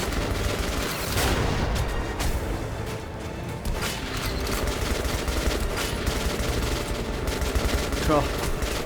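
Sustained rapid gunfire from Metro Last Light, a loud, dense fusillade of overlapping shots running through the whole stretch with a few heavier booms mixed in.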